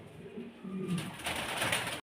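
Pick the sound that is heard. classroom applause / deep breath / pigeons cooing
pigeons cooing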